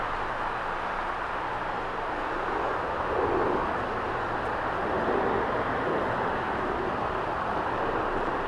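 A Qatar Airways airliner at Los Angeles airport (LAX) gives off a steady, broad jet-engine roar at moderate distance, holding even throughout with a slight swell midway.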